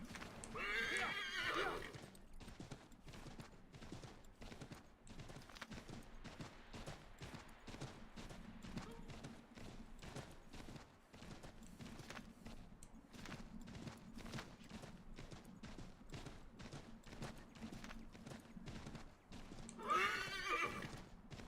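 Horses whinny loudly at the start and end, with steady clip-clop hoofbeats trotting throughout, in the video game Assassin's Creed III.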